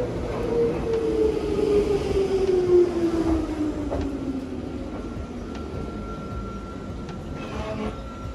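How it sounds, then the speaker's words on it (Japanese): A two-car Nankai 22000 series Zoom Car train rolls in from the Shiomibashi direction, a steady rumble with a gliding, falling brake whine that fades as it slows, heard at close range with no talk. "塩見橋方面から列車が来ました。 使用している列車は22000系のズームカーと呼ばれる2両編成の列車です。"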